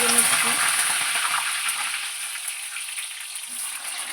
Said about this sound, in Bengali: এক এক করে সব সবজিগুলো ভেজে নিচ্ছি